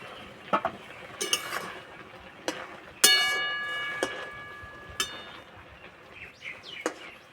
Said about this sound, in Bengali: ঢাকাটা খুলে একটু নাড়াচাড়া করে নেব